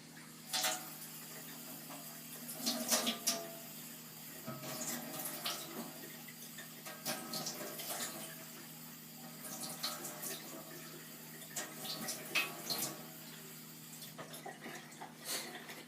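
Water runs from a kitchen tap in a steady faint trickle, with several brief louder splashes scattered across a long stretch of quiet handling while a cook adds water to apple pie dough.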